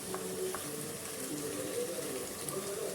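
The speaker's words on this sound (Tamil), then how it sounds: "இன்னும் தண்ணி ஊற்று." Water poured or running for washing clothes, a steady, moderately quiet gush and splash that continues evenly, with occasional faint clinks in the background.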